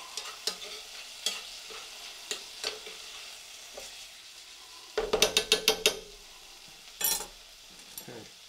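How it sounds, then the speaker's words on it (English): Shallots and vegetables sizzle in a hot pan with a soft background hiss, broken by several clacking spatula stirs and clinks of utensils against the pan. "Hope the cameras are picking up on the sizzle."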